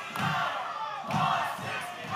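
A live wrestling crowd roars and yells in surging waves, loud and dense, with no speech on top.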